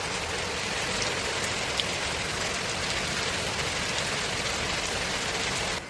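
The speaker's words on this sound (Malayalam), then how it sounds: "ഭയങ്കര മഴയാണ്" Heavy rain pouring in a dense, steady hiss that fills the scene, constant and loud with no pauses and no voices, falling on a village area in Kerala.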